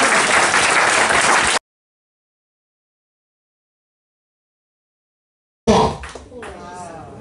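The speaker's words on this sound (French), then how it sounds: "Applaudissez Jésus." A church congregation applauds Jesus during a sermon, loud clapping and crowd noise that cuts off abruptly into silence, then returns briefly with voices.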